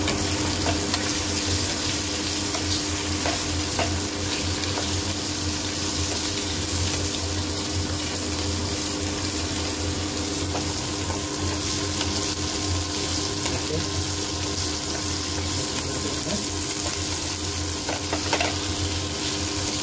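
Chopped okra frying in a pan with tomato, a steady loud sizzle running throughout, with occasional scrapes and clinks of stirring close by.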